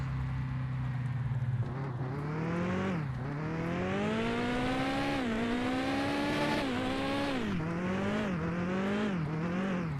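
A car engine in the game Mon Bazou drones and labors continuously up a hill, pitch rising and dipping repeatedly as it strains, with a synthetic, game-like tone and no talking.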